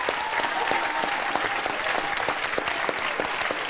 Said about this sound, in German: Da darf noch ein bisschen lauter geklatscht werden.